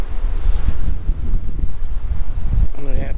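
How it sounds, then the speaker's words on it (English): Strong gusts buffet the microphone on Admiralty Pier in Dover while sea fishing, a loud continuous roar of wind noise filling the whole clip, with a brief voice near the end. "It's a bit blowy."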